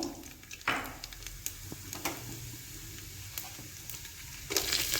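Mustard seeds and cumin sizzle in hot cold-pressed sesame oil in a pan, a soft steady frying hiss with sharp pops and crackles scattered throughout, louder bursts near the start and end.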